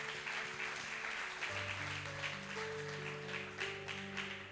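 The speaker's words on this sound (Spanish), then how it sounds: "Dale un aplauso al Señor por la palabra." A church congregation at a faith crusade claps together, moderately loud and continuous, with sustained organ or keyboard tones swelling underneath.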